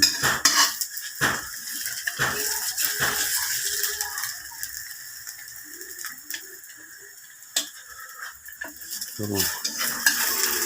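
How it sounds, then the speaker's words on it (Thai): Eggs frying for a Thai kai jiao omelette, with utensils clattering and scraping against a pan, sharp knocks scattered through a light sizzle, fairly close and with no talking. "ทอดไข่กินนะทุกคน"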